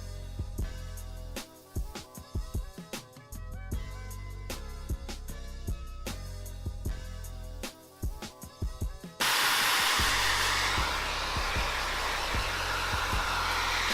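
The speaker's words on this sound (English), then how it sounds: "So this is how I dry my hair specifically. I start with scalp mode, and I'm gonna go into number 2." A hair dryer on scalp mode at setting two blows through hair with a rough, steady whoosh. Its airflow changes with repeated dips and bumps as it moves, then turns into a louder, constant roar for the last few seconds.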